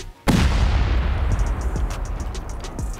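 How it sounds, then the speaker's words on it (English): Seven C4 charges and a rocket detonate against armored half floors in a raiding video game, starting with a sudden loud blast and then a long rumbling roar with crackling debris. "I hope we have enough for this. 7 C4 and a rocket."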